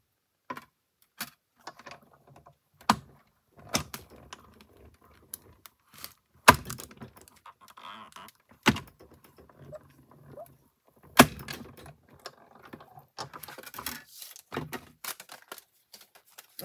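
Paper fed through a cut and emboss machine to cut out a window gives scattered sharp clicks and knocks with faint grinding between them, close and fairly quiet, over a low background.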